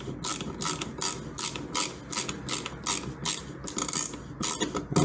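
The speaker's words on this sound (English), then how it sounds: "you guys might not like the sound of a ratcheting screwdriver" Rapid ratcheting clicks from a hand screwdriver while changing an electrical outlet repeat in quick bursts, close and crisp, with a steady mechanical rhythm and no talking.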